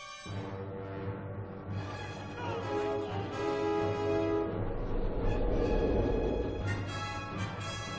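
A steam train rumbles along at close range with a heavy low drone and bright whistling tones rising over it, continuous and loud throughout.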